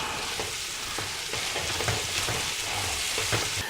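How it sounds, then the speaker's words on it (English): Salt and black pepper are stirred into crushed tomatoes and sausage in a pan, with a steady sizzle and scattered scraping clicks of the spoon, close and with no talking. "Add some salt, some black pepper, and then stir that in."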